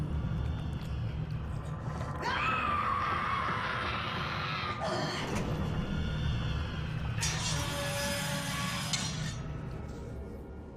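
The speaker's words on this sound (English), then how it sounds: "After that incredibly eerie scream" An eerie, drawn-out scream rises in BioShock Remastered over a low, rumbling game ambience, followed by glassy, metallic clinks and a second harsh wail that fades out.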